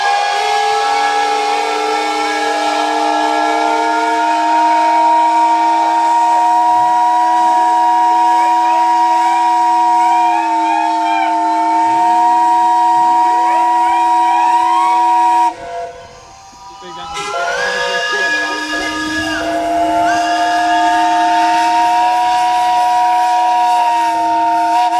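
Several steam whistles at a traditional steam rally whistle-blowing ceremony sound together in a loud, sustained chorus of layered tones, briefly cutting out near the end before resuming with a few whistles.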